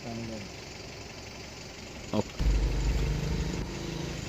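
A road sweeping machine's low engine rumbles steadily, growing heavier midway as the machine revs up, with a faint clunk just before.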